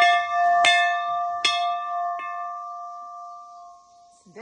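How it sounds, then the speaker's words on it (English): Two sharp metallic strikes of a dinner bell on a cattle farm, each ringing out loud and close with a long, sustained tone that slowly fades, followed by a faint third tap and a brief voice at the end. "Dinner bell."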